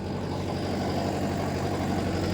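A Mahindra Yuva Tech Plus tractor engine running a rotavator in wet farmland at around 1600 rpm in low third gear, a steady loud diesel drone with an even low throb, close and continuous with no talk.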